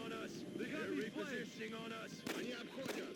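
A pistol shot fires in XCOM: Enemy Within, heard as a few sharp, loud cracks cutting through busy game music and effects while someone talks over them.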